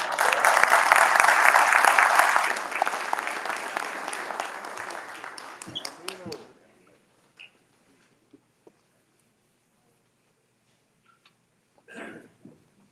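Audience applause at a fraternity chapter monument dedication, a dense burst of clapping that thins out and fades over several seconds, leaving a few scattered claps and faint sounds afterward.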